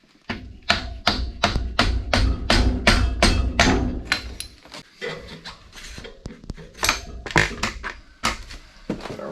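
A hammer strikes a punch to drive the front axle out of a dirt bike: a rapid run of sharp metallic taps, close and loud, then a short pause and another uneven burst of blows.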